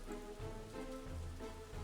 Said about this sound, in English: Oh, and there's the rain again.